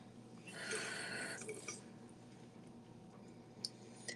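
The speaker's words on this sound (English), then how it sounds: "Add a little bit more water." Water dripping and trickling into a bowl of face mask paste: a soft, close, brief splashy patter for about a second, then quiet with a couple of tiny ticks.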